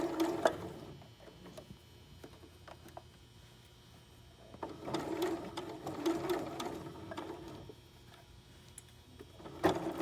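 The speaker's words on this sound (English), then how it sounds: "now when we start to sew, it'll pull it, and we're just going to stitch on the diagonal line" A sewing machine stitches a quilt block along a diagonal line, its motor whirring in bursts with quieter pauses between runs and a louder stretch in the middle, alone with no talking.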